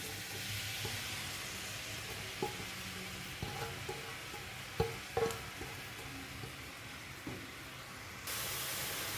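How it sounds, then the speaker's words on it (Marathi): Grated carrot sautéing in hot ghee for traditional gajar halwa, giving a faint, steady frying hiss with occasional soft stirring scrapes and small clinks, no voices. "आणि छान असं हे तुपामध्ये परतून घ्यायचं"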